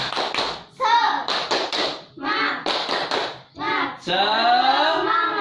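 A school class does a rhythmic spirit clap in short patterned bursts of taps and claps with brief pauses between, mixed with children's voices chanting along, close and fairly loud.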